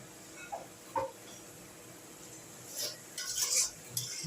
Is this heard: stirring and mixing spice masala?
yes